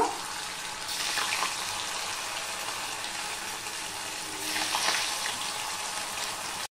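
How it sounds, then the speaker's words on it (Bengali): Flour dough balls deep-fry in hot oil with a continuous close sizzle that swells into two louder hissing bursts as more balls go in. "একে একে আমি সব ময়দার বলগুলো ভেজে নেব।"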